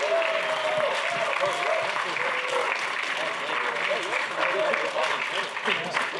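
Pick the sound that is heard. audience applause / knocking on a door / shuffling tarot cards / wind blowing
audience applause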